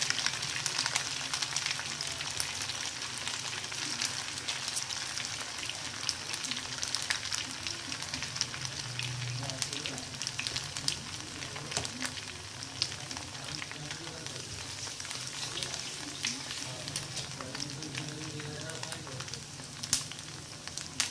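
Maggi pakoda frying in hot oil on a medium flame, a soft continuous sizzle and bubbling with occasional light crackles and faint stirring, heard close but at low volume throughout.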